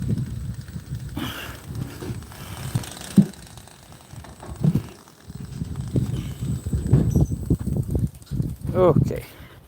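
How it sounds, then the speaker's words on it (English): Big horses trotting around a pen, a steady rhythm of dull hoof thuds and clops at moderate distance, with rustling and a voice breaking in faintly now and then. "Got the big horses running around."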